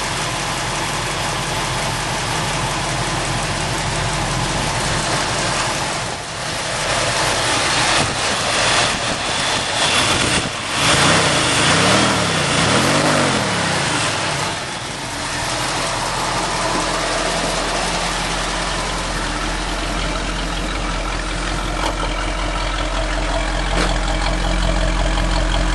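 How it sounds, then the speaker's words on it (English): A 1972 Ford F-100 pickup with a 360 V8 idles steadily with a cracked exhaust, making a loud, rough, constant low rumble that stays close and unbroken throughout. "Now this exhaust system does have a crack in it, that's why it is really loud."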